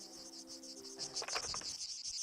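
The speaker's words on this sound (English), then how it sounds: "Oh, these are cicadas." Cicadas buzz outdoors in a steady high-pitched drone that pulses slightly and stays fairly faint, with a few rustling knocks and a brief rattly burst partway through.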